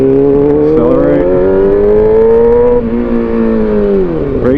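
A motorcycle engine accelerates nearby, a steady rising drone with strong harmonics that holds, dips slightly and eases off near the end; no voices.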